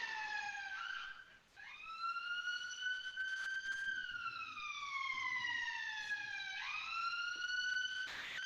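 A UK police siren wails in a long two-tone cycle, its pitch sliding up and down several times. It sounds fairly close and clear, with a brief dip near the start, and nobody speaks over it.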